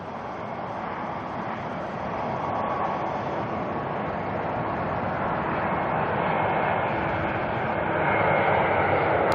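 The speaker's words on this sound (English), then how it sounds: "What I can see is an A320 of Jetstar JQ298 coming in from Queenstown." A Jetstar Airbus A320 airliner arrives on approach to land at Auckland Airport at night, its engines a broad, steady roar that swells slightly as it nears, heard from a distance with no voices.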